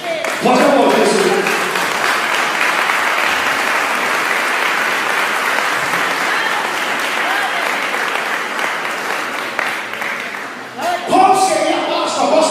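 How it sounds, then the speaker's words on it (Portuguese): A church congregation breaks into loud, sustained applause at an Easter sermon, dense clapping swelling at first and holding steady before fading near the end as a voice starts up again. "Pode aplaudir isso."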